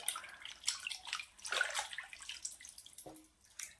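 Sliced potatoes for wafers are swirled and rinsed in water by hand, giving close, irregular sloshing and splashing bursts with small drips between them.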